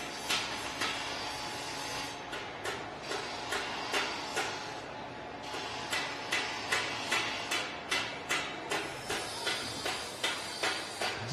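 A hammer shapes a metal motorcycle tank in a garage, striking in a steady, even rhythm of sharp metallic taps, roughly two or three per second, close and alone without talk.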